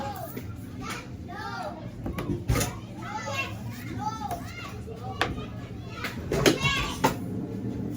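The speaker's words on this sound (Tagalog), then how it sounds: "Dinig nyo maingay yung mga bata kasi andyan lang sila sa harap ng shop na lalaro." Children play noisily in front of a shop, their high shouts and chatter rising and falling continuously at moderate distance, with occasional bumps and knocks mixed in.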